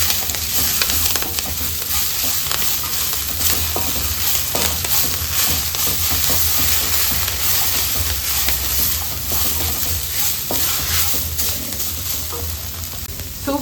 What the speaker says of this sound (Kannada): ಚೆಂದ ಫ್ರೈ ಮಾಡ್ಕೊಳ್ಳೋಣ.